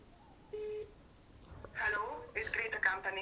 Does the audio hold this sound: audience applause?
no